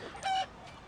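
Chicken in LEGO City Undercover game giving a single short cluck, brief and fairly close, over quiet game background.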